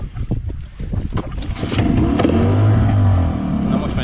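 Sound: small boat motor running

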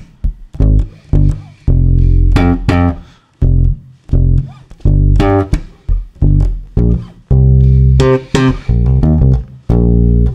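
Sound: slap bass riff with thumb and pops

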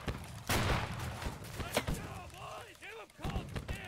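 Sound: musket volley fire in a Gettysburg battle video game

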